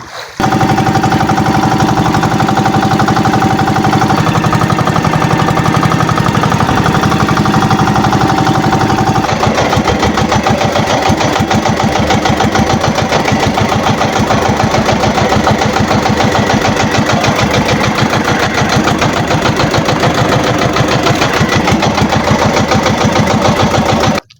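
A fishing boat's engine runs continuously in a loud, close, steady drone that shifts slightly in tone partway through and never stops.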